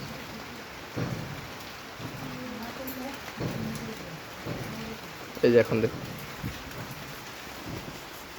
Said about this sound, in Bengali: বৃষ্টি হচ্ছে আজকে